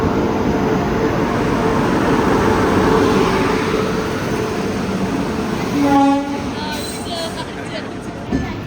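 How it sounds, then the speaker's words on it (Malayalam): The Chennai–Thiruvananthapuram Mail arrives at a railway station in Trivandrum with a loud, continuous rolling rumble, and a brief tonal horn blast rises near the end. "അപ്പോൾ ചെന്നൈ തിരുവനന്തപുരം മെയിൽ അതാ വന്നുകൊണ്ടിരിക്കുകയാണ്."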